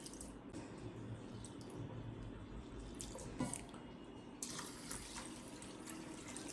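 Rice is rinsed in water in a vessel, with quiet sloshing, gentle drips and soft handling sounds close by, faint and continuous with no talking.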